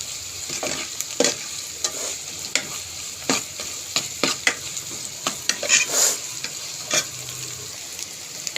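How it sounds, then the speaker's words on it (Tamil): Steady sizzle of onions frying golden in a pan for fish curry, with repeated stirring scrapes and clicks of a utensil against the pan, close and continuous. "வெங்காயம் வந்து பொன்னிறமாக வதங்கிருச்சு"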